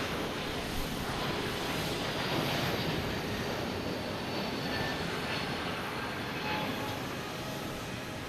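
A JetBlue airliner takes off at Boston Logan Airport, heard as a steady, broad distant roar of jet engines that holds level throughout, with no talking.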